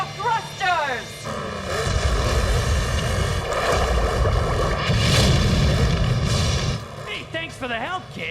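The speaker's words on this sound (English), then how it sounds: "Start your thrusters!" Cartoon racing vehicle thrusters fire up and roar, a loud sustained rushing engine blast with voices speaking before and after it.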